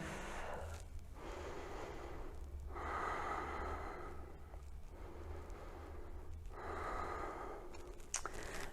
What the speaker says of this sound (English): We'll take one more deep breath.